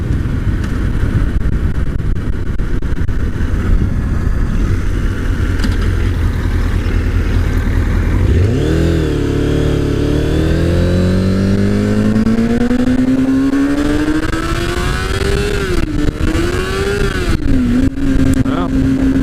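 A Kawasaki ZZR600 motorcycle rumbles loudly at speed, then its engine note climbs in a long rising whine through the gears, with a couple of shifts and dips near the end and strong wind noise throughout.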